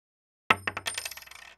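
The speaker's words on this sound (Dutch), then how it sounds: "We bijten erin en gooien het op een koperen tafel om te horen of het echt goud of zilver is." A coin thrown onto a copper table lands with a bright ringing clink, then bounces and rattles in a quickening series of metallic taps before settling, close and alone.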